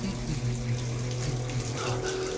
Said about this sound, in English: Keep that tap running.